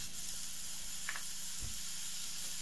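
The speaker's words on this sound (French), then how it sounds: "on passe à la deuxième cuisson du steak" Steak frying in a pan on its second side after a cheddar-topped patty was cooked, giving a steady, quiet broad sizzle and hiss that runs throughout with a couple of faint crackles and a soft low bump, no voices.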